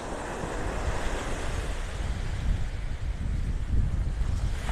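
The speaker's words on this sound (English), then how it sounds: "Kind of rough here along the surf for our coast, our Gulf Coast." Rough surf breaks steadily along a Gulf Coast beach in North Naples, Florida, under overcast skies, a loud continuous wash of waves with wind buffeting the microphone and no voices.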